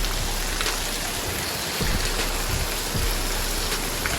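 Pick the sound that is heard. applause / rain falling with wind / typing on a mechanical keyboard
rain falling with wind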